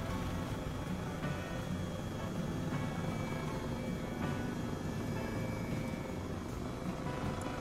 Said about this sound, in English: Front prop biplane. No horizontal stabilizers.